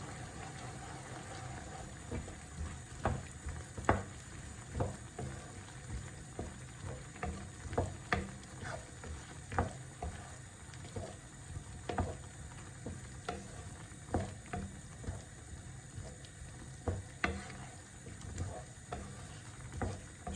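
A spoon scrapes and taps rhythmically in a pan of simmering vegetable korma sauce with yoghurt, soft regular strokes over a low bubbling hum.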